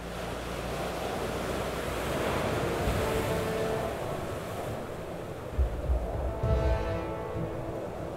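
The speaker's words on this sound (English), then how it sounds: "Huge storms have hit the coast." Storm waves surge and crash along a coast during high spring tides, a continuous roaring wash mixed with wind buffeting the microphone, with heavier thumps of breaking water toward the end.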